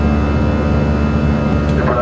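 Loud, constant airplane cabin roar from the jet engines, picked up by an Osmo Pocket 3 microphone, an unbroken dense rumble with no voices.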